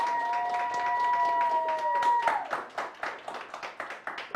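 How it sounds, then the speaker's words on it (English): A small group at a university weather team meeting claps for a newly named team leader, scattered sharp claps under a sustained whistle-like tone, settling into a looser rhythm of individual hand claps. "Go ahead, clap, everybody, clap."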